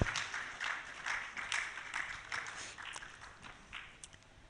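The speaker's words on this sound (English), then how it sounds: "A round of applause for Dorcas as she makes her way up" Audience applause at a live-streamed initiative event as a senior technical advisor walks up to the stage: steady, fairly soft clapping from a moderate crowd, sustained throughout without speech.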